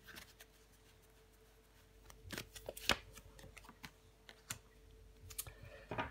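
Tarot cards are shuffled and set down at a reading, giving soft, scattered riffles and sharp slaps that come irregularly, with a few louder snaps near the middle and end. No voice is heard.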